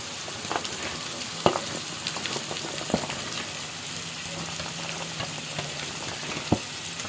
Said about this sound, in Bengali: গাজরটা কয়েক সেকেন্ড নেড়ে চেড়ে দিয়ে দেব বরবটি